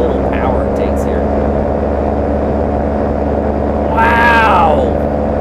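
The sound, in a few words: paramotor trike engine in flight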